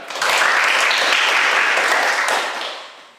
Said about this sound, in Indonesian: tepuk untuk kita dulu